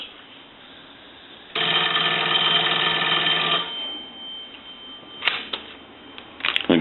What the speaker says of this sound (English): what we're going to do is go ahead and ring the telephone